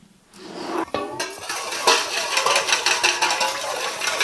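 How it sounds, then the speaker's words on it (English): A whisk clatters briskly against a bowl, blending black pepper and seasoning for a pan-fried London broil, a close, rapid, continuous metallic clinking and scraping that starts after a brief quiet moment. "And now we're going to give it a whisk"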